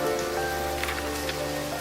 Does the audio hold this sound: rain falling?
yes